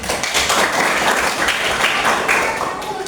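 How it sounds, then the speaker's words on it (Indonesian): Classroom applause at an Indonesian high school: a continuous burst of many hands clapping fills the room for a few seconds, fairly close and even in level. "Tepuk tangan."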